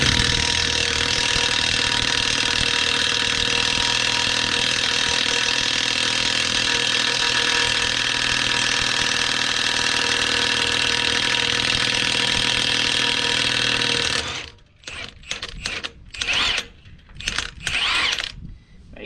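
A Milwaukee M18 Fuel 3/4-inch cordless impact wrench runs on a heavy truck's lug nut, making a loud, continuous mechanical hammering close by for about fourteen seconds, then breaking into short bursts with pauses between them.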